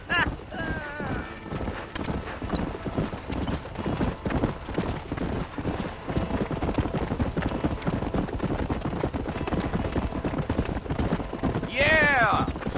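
Horse hooves clip-clop steadily in Red Dead Redemption, a Western video game, with a brief whinny near the end while characters talk over the hoofbeats throughout.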